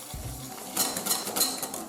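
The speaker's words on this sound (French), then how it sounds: "je vais mélanger pour réaliser ma ganache" A utensil stirs chocolate ganache of cream and melted chocolate in a bowl, giving soft, rhythmic scraping and light taps against the sides, close and fairly quiet.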